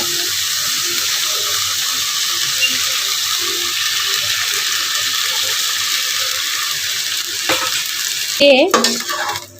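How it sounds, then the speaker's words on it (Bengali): Masala with whisked yogurt cooks and sizzles in a pan, giving a constant close hiss of bubbling. Near the end come a few louder scrapes and clatters of stirring. "ভালো করে কিছুক্ষণ নেড়ে চেড়ে আবার মশলাটাকে কিছুক্ষণ আমি ভালো মতো কষিয়ে নেব"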